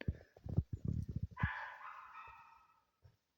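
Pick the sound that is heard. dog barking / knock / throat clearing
dog barking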